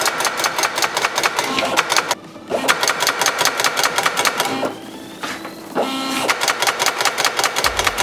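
A ticket-stub numbering machine running after being loaded and started, giving a rapid, steady mechanical chatter with repeated clacking strokes that pauses briefly twice before resuming, close and loud.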